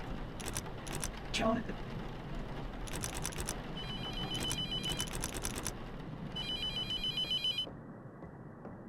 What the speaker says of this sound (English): That's pretty typical, the phone ringing 24/7.